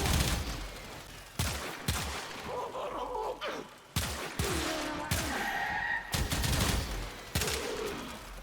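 Gunfire from the Vasto Incarnon in Warframe, loud bursts of rapid shots in several separate volleys with short pauses and sharp cut-offs, with energetic game effects ringing between them.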